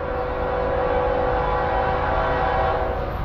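A Norfolk Southern freight train rumbles past with its horn blaring steadily, loud and close throughout. Recorded on the Lehigh Line in South Plainfield, New Jersey.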